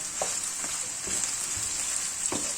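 Onions sautéing in a pan for a low-fat moussaka, giving a steady close sizzle throughout with a few soft stirring taps, no voices.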